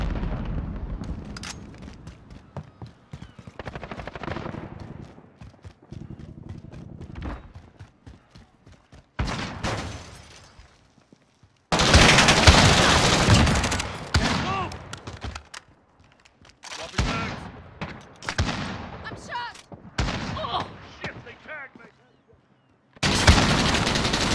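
Call of Duty: Modern Warfare gunfire, with sustained automatic bursts and scattered shots rattling loud and close, broken by short quiet gaps, plus occasional voice callouts between volleys.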